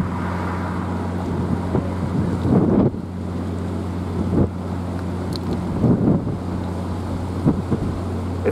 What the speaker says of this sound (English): It's so windy here, it's been knocking over my camera